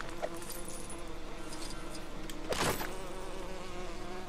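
A bee in LEGO The Hobbit buzzes steadily over game background sound, with a louder swelling pass partway through.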